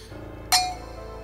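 Two glasses meet in a single sharp, ringing clink during a toast, the bright tone fading over a fraction of a second against a quiet room.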